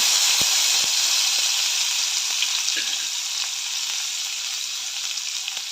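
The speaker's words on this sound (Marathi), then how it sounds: "ग्रेव्ही थोडंसं तेलामध्ये परतून घेऊया" Ground gravy fries in hot oil with mustard seeds, cumin and curry leaves for a broad bean curry, giving a loud, steady close sizzle with a few light clicks and stirs.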